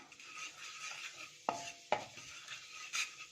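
Spices are stirred in a pan over a faint, low sizzle, with two distinct spatula clacks against the metal and a lighter scrape near the end.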